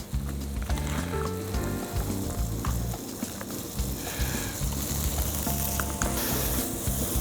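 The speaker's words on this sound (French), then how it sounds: "quand on commence à avoir un beurre moussant, on va pouvoir démarrer nos cuissons des Saint-Jacques" Scallops sear in foaming butter in a pan, a steady, dense sizzle and crackle up close with occasional small pops, and no one talks over it.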